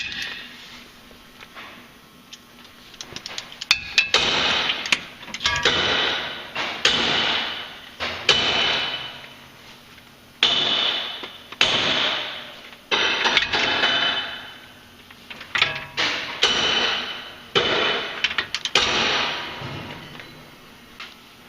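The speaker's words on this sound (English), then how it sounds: "So for now, I'm torquing this to 110." Repeated ratcheting clicks of a torque wrench tightening the front sway bar bolt to 110 foot-pounds on a 2011 Scion tC, coming in bursts of several seconds with short pauses between strokes, close and fairly loud, no talk.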